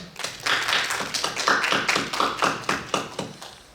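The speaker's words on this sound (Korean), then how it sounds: "수고하신 두 분께 큰 박수 부탁드립니다" A small audience at a Seoul traditional Korean music (gukak) forum claps for two speakers after a presentation and discussion, the distinct hand claps sounding sparse and fairly rhythmic, like a modest round of applause in a hall.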